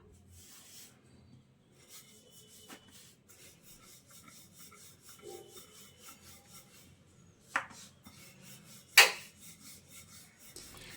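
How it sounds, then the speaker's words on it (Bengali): Flour and semolina dough rolled flat into a round with a rolling pin, giving soft, continuous rubbing and rasping strokes close by, with a couple of sharper knocks near the end. "আমি ময়দা আর সুজি দিয়ে যে ব্যাটারটা তৈরি করে রেখেছিলাম সেটা এখন আমি একটা রুটির আকারে বেলে নেব"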